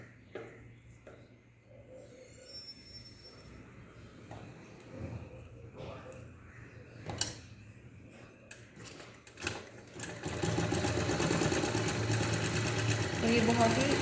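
A sewing machine stitches blouse fabric, its steady rapid whirring buzz starting softly and growing loud and continuous for the last few seconds, with someone speaking over the earlier part.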